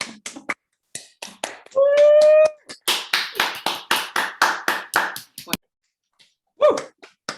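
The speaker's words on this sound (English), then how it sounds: "let's give a big round of applause to Olga" A handful of participants on a video call clap for Olga in quick, uneven bursts, with a short whooping voice just before the clapping builds to a steady patter.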